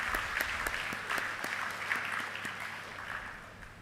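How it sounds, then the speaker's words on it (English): Applause for a panel at a literary prize event, a dense, lively clatter of many hands from a nearby crowd that holds steady and then eases off slightly. "So let's hear a loud round of applause for our fabulous panel."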